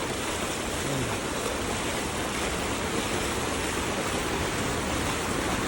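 Water in a stream rushes loud and constant in a dense, steady roar that drowns out other sounds throughout.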